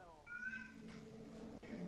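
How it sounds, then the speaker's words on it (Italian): A cat meows and cries inside a Fortnite match, a short rising-and-falling wail heard close over game sounds, with a voice talking alongside. "Che cazzo è che c'è il gatto che piange?"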